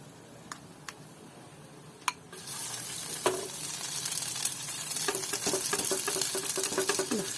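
Cut bread set into hot oil in a pan, a few light taps followed by a sudden sizzle that swells into a steady crackling fry with small pops.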